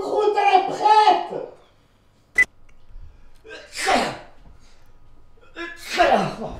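A single sharp, loud sneeze between bursts of French conversation, one close person's sneeze set between stretches of speech.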